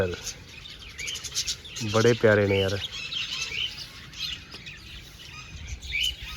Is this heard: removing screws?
no